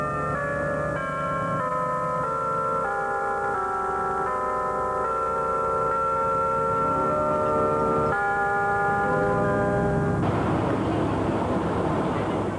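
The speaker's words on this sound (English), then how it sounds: "Only the clock tower chimes break the silence." A clock tower in Coalinga sounds a slow series of ringing chime tones, each note lingering into the next, clear and fairly loud over a faint steady background hum.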